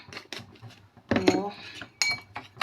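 A spoon stirs marinating roast pork in a pot, making scattered metallic clinks and scrapes at close range, mixed with a voice talking.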